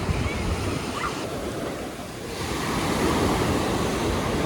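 Ocean waves break and wash on a steep beach, a loud broadband rush with some wind, dipping briefly and then surging again.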